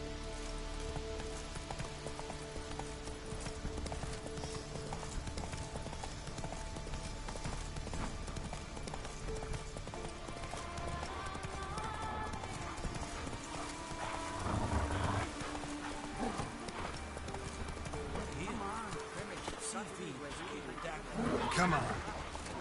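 Horse hooves clip-clopping at a gallop in The Witcher 3 video game, a continuous busy rhythm under game music and ambience, with voices talking over it.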